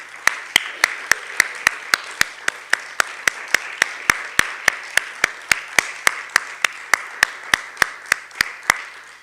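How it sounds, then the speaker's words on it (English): Slow, evenly spaced claps, about three per second, ring out against a soft wash of audience applause for the poets at a festival of poetry and spoken word. "Could we please have another round of applause for our brilliant poets"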